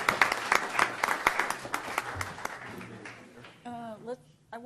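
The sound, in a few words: applause at city council meeting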